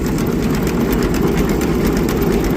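A McCormick-Deering 10-20 tractor engine, fitted with a custom Holley carburetor and leaking oil from its side inspection covers, runs with a continuous, loud low rumble that holds steady throughout.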